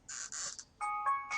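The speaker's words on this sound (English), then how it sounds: "that's my alarm telling me to hop off my stream" An alarm goes off in short electronic bursts, a couple of bright buzzing beeps followed by a ringing chime tone, fairly clear and alone.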